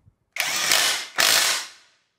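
A Bosch GDS 18V-350 cordless impact wrench set to speed three hammers a fastener tight in two loud, harsh rattling bursts close up, the second fading out.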